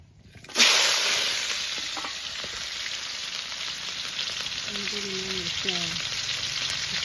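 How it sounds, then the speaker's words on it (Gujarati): Tempering of dry red chillies, green chillies and cumin in hot oil on a stove, a sharp loud sizzle bursting out at once and settling into a steady crackling fry, with faint brief voice traces in the background. "એટલે હું ચૂલા પર વઘારવા જઈશ"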